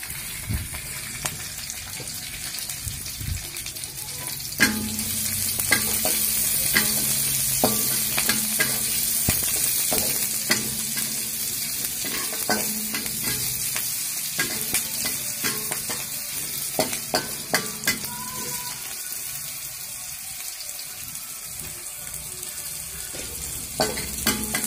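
Garlic with red and bird's eye chilies stir-fried in a hot pan for a sweet-and-sour tilapia dish, a steady loud sizzle broken by repeated sharp scraping clacks of a spatula, with no talking.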